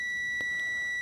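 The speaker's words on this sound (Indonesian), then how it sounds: "Kalau ada bunyi bip, ini artinya short." A multimeter in continuity mode gives one steady, high electronic beep that signals a short. The tone holds for the whole moment, clear and alone.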